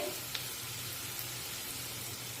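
Ginger garlic paste sizzles in a pan, a steady close frying hiss with a faint stir or scrape now and then.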